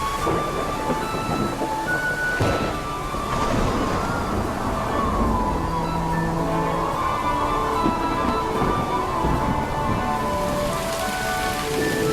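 Thunderstorm sound effect with steady heavy rain on a surface and rolling rumbles of thunder, continuous and full throughout, with no talk over it.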